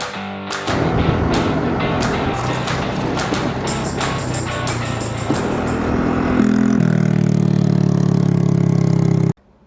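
A scooter engine runs steadily while riding on a road trip loop in Laos, a loud continuous mid-pitched drone with a few clicks early on and a rising, strained hum toward the end, with no voices.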